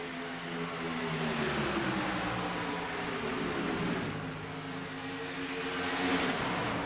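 A race car engine in a sim racing game at Daytona drones steadily for the whole stretch, a continuous harmonic roar with faint swells in pitch and no voices over it.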